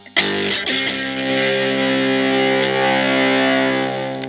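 Heavily distorted electric guitar chord through a TC Booster LineDriver boost pedal rings out loud and sustained after a quick strummed attack, saturated and buzzy throughout.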